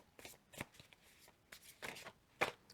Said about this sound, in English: I'm going to start shuffling the cards